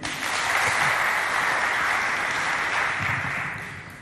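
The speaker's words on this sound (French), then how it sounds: "On les applaudit." Applause from a quiz-show audience at a Chadian school contest, a dense, steady wash of clapping that runs loud throughout and eases slightly toward the end.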